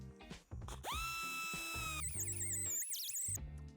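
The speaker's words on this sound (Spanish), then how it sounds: "Para afinar el recorte usaré un disco de lija" A sanding disc on a power tool smooths a bumper cutout on a 2025 KIA Sportage V restyling, spinning up into a loud, close, steady whine that shifts pitch as it works the plastic edge. No one speaks.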